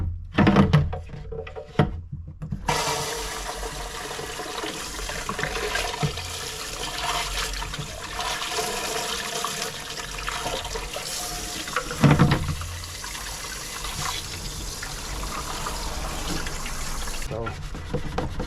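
Water sprays and splashes steadily while an engine part from an intake and oil pressure sensor job is rinsed clean, a continuous hiss and gurgle running nearly throughout, with a brief louder burst partway through.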